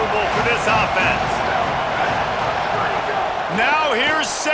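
Stadium crowd roaring in EA Sports College Football, a loud continuous wash of cheering and noise with whistle-like swoops, under a play-by-play commentator's voice.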